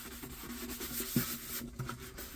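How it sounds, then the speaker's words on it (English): Quiet, steady rubbing and scuffing with a soft rhythmic rasp as a sanding pad is worked back and forth over a painted metal milk bucket, with no voices. "I'm just going to go ahead and scuff this up with a sanding pad"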